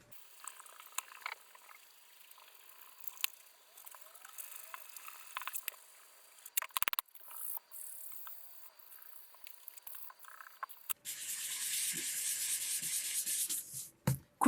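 Steady scratchy sanding strokes on a Les Paul guitar body rub back and forth, with a longer continuous grinding stretch near the end; no talking.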